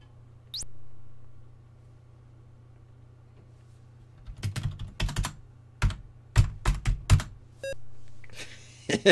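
Computer keys clack in quick, uneven bursts of typing while playing an Apple II game, after a quiet stretch, close and distinct, with a faint electronic beep at the start.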